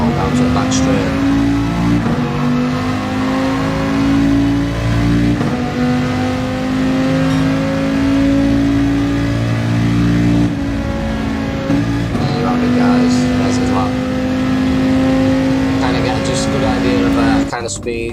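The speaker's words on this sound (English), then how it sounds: "Full throttle down to the back straight." A GR4 race car screams at full throttle down the back straight at Suzuka, its engine note holding a steady high pitch, loud and continuous for the whole stretch, with a commentator speaking over it.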